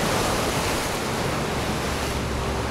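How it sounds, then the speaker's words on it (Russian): Sea waves breaking along the Alanya seafront promenade in winter, a steady broadband wash of surf with no pauses, fairly close and even in loudness throughout, with no voices over it. "Такое замечательное море."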